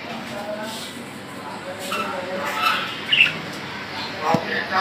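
Lutino red-eyed cockatiels at a busy bird market give scattered squawks and chirps, a few sharp calls standing out over crowd murmur and voices in the background.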